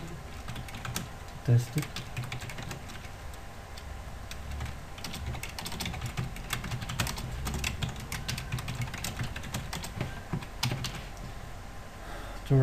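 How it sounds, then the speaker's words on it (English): Quick, irregular clatter of keys on a computer keyboard as code is entered, close and continuous, with a voice briefly speaking over it. "we're typing just a simple method"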